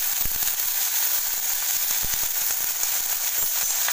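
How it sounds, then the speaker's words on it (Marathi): Green chili, garlic, cumin seeds and peanuts sauté in a pan for a chili-garlic thecha, giving a steady close sizzle with a few sharp pops and light scrapes. "असे हे छानपैकी आपल्याला परतून घ्यायचे"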